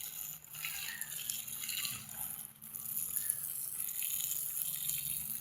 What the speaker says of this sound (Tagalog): dito lang po tayo sa gripo umaasa ng pandilig natin